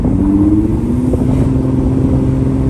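A 2.5 V6 engine in an Audi A6 C5 with a gearbox fault that will not downshift out of fifth drones loud and close. The note climbs slightly and then holds at a steady rev, with no talk over it.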